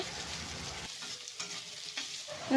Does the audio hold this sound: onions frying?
yes